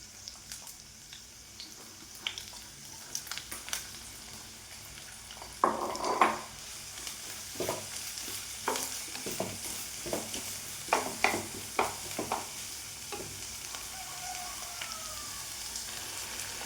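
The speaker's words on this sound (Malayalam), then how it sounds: "സവോള ചെറുതായിട്ട് അരിഞ്ഞേക്കണത്, 3 പച്ചമുളക്, ഇത് ഞാൻ ഇതിനകത്തേക്ക് ഇട്ട് കൊടുക്കാൻ, വെളിച്ചെണ്ണയിലേക്ക് ഇട്ട് കൊടുക്കാം" Finely chopped onion and three green chillies frying in coconut oil for a capsicum curry, a continuous sizzle with scattered stirring scrapes and clinks of a utensil against the pan, louder bursts midway; no one talks.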